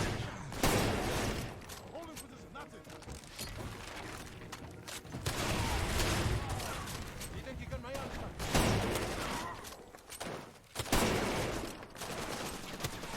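Dense gunfire from the Far Cry 2 video game, with bursts of automatic fire and shots coming through a wall, loud and continuous over the whole stretch, with a voice talking now and then.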